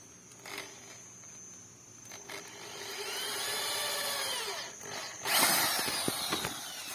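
An electric drill bores another hole while a sago grinder is being built. A whirring run swells and fades midway, then a sharper, louder burst of drilling follows, close by with no talk.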